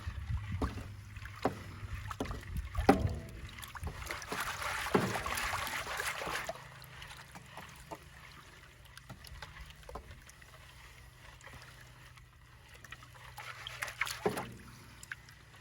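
Water sloshing and swirling in a metal gold pan during gold panning, with faint, close splashing in irregular waves and some rattling, strongest in the first half and again near the end.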